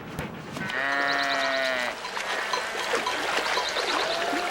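A flock of sheep bleats loudly and close by, one long wavering call followed by further overlapping bleats, over a steady outdoor background with a faint trickle of water.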